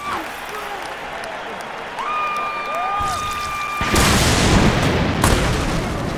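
Football video game match with a punt kick followed by a swelling crowd roar, a sharp booming thud cutting through steady stadium noise and electronic tones, loud and close.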